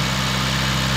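A 2008 Honda Jazz i-DSI petrol engine idles steadily and loudly up close during a Blackcore engine flush, with a constant low rumble and vibration and no breaks.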